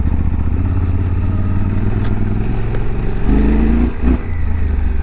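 A new Suzuki V-Strom 800DE motorcycle pulls away in low gear with its engine lugging at low revs, a loud, close, throbbing drone that briefly dips and picks up again near the end.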